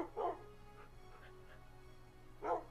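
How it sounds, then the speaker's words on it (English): A large pack of dogs in a video game village gives two short, faint barks about two seconds apart, with a low steady hum between them. "a rather large pack of dogs"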